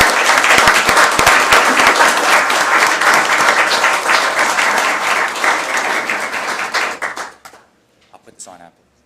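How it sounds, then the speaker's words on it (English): Council chamber audience applauding a college men's basketball team and its coaches, a dense, loud wash of many hands that holds steady for about seven seconds before cutting off, followed by a few faint sounds. "We'll clap."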